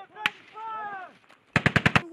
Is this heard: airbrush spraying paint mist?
no